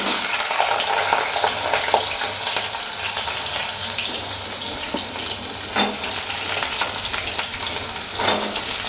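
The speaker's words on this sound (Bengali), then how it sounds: "প্রথমে গাজরটা ভাজি।" Carrots fry in oil in a pan, the start of a mixed-vegetable paneer dish, with a continuous loud sizzle and occasional clinks and scrapes of stirring throughout.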